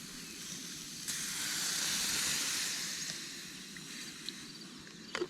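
Steam hisses from a hot pan after a splash of water is added while cooking on a backpacking trip, a steady broadband hiss swelling for a few seconds and then easing, with small clicks near the end.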